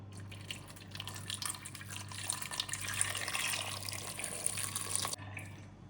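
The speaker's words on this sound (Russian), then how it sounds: "Весь картофель отправляю в кастрюлю и заливаю горячей водой" Hot water pours steadily into a pot of quartered potatoes in a home kitchen, a continuous close splashing fill lasting about five seconds before stopping, with a low steady hum beneath.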